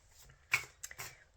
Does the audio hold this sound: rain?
no